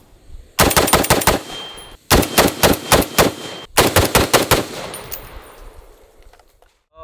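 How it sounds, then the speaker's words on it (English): FN SCAR rifles (16S, 17S, 20S) fire outdoors in three rapid bursts of sharp, loud, close shots, each string of about five to seven rounds separated by short pauses, with echoing decay after the last burst. "let's go ahead and shoot some scars."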